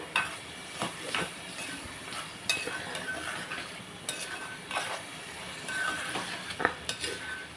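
Raw snail curry with ginger-onion paste gets stirred in a cooking pan, giving repeated scraping and clinking strokes over a low sizzle, fairly close and steady with no talking.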